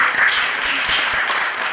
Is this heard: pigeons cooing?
no